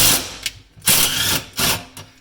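A self-tapping bolt being driven into the front of a Polaris RZR XP Turbo S 4 for a Click6 Immi harness mount, heard as close, loud bursts of ratcheting tool whirr with short pauses between.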